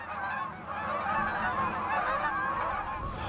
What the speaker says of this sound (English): If the goose is honking, you're honking.